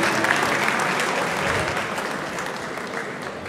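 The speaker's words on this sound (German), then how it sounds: "Macht mal ein bisschen mehr Applaus für unseren Gewinner." The crowd at an amateur MMA event applauds the fight winner, a loud, continuous rush of clapping that eases slightly over about three and a half seconds.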